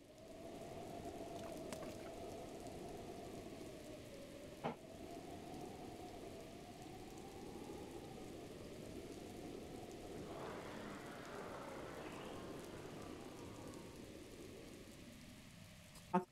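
Steady, soft rainfall in the Breath of the Wild game, a constant hiss of drops on surfaces with a faint low tone beneath and a brief swelling rumble partway through, no voices.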